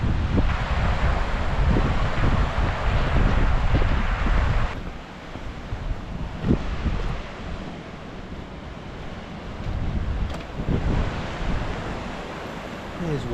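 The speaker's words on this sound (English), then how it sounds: "two big waterfalls coming down" Two big waterfalls pour down beside a small stone bridge in the Eskdale valley, a continuous rushing roar mixed with wind buffeting the microphone, loud at first and then somewhat softer.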